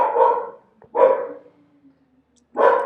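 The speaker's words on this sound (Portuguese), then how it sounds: "O cachorro adora conversar com o motorista de ônibus." A dog barks in three loud, close bursts: two within the first second and one near the end, with near silence between them.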